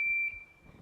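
A small battery-powered buzzer wired to two drawing pins gives a steady, high, piercing tone when the top pin is pressed onto the bottom one. The tone is loud for about a third of a second, then drops to a faint lingering whine.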